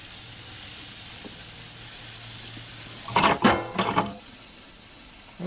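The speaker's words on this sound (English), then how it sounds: "I'm going to flip these over and get the sear going here." Chicken and bacon sear on a hot grill with a steady, close hiss. Louder crackling bursts break in partway through as pieces are flipped, then the sizzle settles back down.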